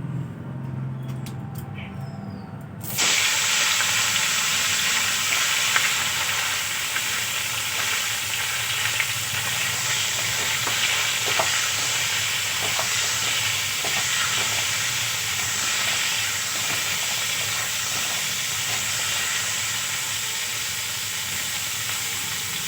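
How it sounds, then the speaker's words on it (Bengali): Cauliflower pieces crackle in a pan of oil left over from frying fish. After a brief quieter start, a strong, steady sizzle kicks in and continues close and loud with occasional pops and stirring. "এখন আমি মাছ ভাজা তেলের মধ্যে ফুলকপিগুলো ভেজে নেব"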